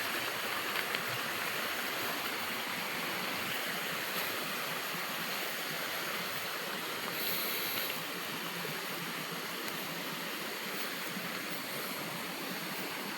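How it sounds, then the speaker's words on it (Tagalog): A mountain stream runs steadily, a continuous broadband rush of flowing water close by, with no talk, near a house damaged by Typhoon Owan. "Pakatuwa naman yung tubig dito."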